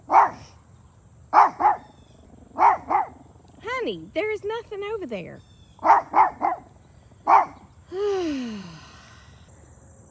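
A female dog barks in sharp bursts, loud and close, mixed with whining howl-like cries and a sighing exhale; someone speaks briefly between the barks.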